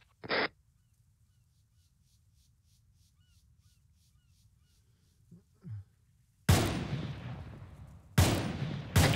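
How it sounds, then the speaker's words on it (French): Two loud, close gunshot bursts from a video game ring out near the end after a quiet stretch with a few faint sounds. "J'ai l'impression qu'on prend des tirs depuis la plage à gauche."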